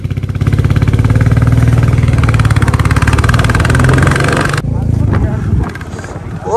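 Motorcycle engine running loudly and steadily on a mountain road in the Chenab Valley between Doda and Bhalesa, a low rumbling drone that drops off near the end, with voices talking over it.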